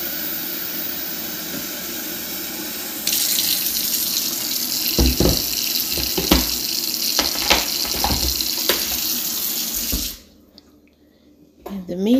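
A kitchen tap gushes as water is drawn to make tea. The steady rush starts a few seconds in, carries a few clinks and knocks, then cuts off abruptly near the end.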